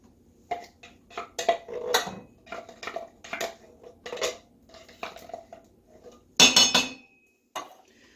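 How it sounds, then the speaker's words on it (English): Undrained canned kidney beans go into a pot of turkey taco soup: a string of metallic clinks and scrapes of can and spoon against the pot, ending in one louder clatter. "now it's time to just add our canned goods, starting with the kidney beans, undrained"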